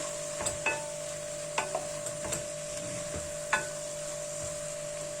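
Purslane and tomato stew stirred in a pot, a spoon scraping and knocking in a few separate bursts over a faint steady background hum, quiet and close, with no talking.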